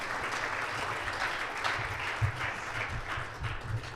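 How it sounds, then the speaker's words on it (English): Final round of applause at a multi-chamber business luncheon and expo, a steady spread of many hands clapping at moderate volume with a few closer, sharper claps standing out. "please give Jim a final round of applause."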